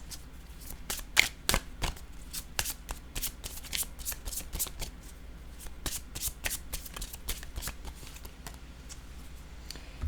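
Fast crisp riffling and slapping of a deck of playing cards being shuffled, close and fairly quiet, in dense bursts of clicks over about ten seconds with no talk.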